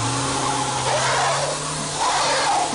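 A Ford Transit van's engine runs steadily nearby with a low, constant mechanical drone and hum, holding an even level for a few seconds without revving hard or trailing off.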